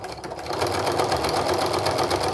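A sewing machine runs steadily, stitching a seam on a charm-pack Christmas stocking, with a continuous close mechanical whir and no talking.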